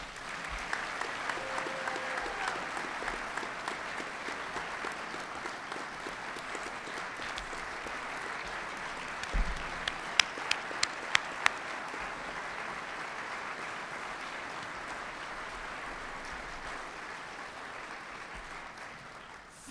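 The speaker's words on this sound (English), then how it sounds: "Let's give them all a big hand, please." A large audience applauds at the Tennessee Aviation Hall of Fame gala, with dense, steady clapping that lasts the whole stretch and a few sharper claps standing out partway through.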